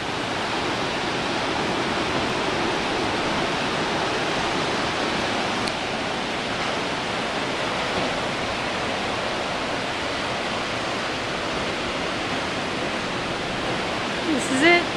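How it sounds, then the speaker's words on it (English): Steady broadband wash of surf and wind on Shell Beach, a short, narrow beach, filling the whole span at an even, fairly loud level with no talk. "This is the beach that I'm going to go run fast on."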